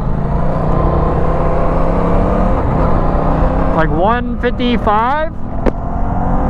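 An Aprilia RS660 sport motorcycle revs and accelerates hard. Its engine note climbs in a quick series of rising upshift sweeps under close, loud wind and road noise, and a rider speaks briefly.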